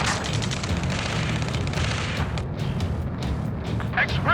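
A rocket explosion in Ace Combat 7 during a rescue mission, a heavy booming blast with rumbling low end and crackling debris that fades over a few seconds, followed by sharp high whistles.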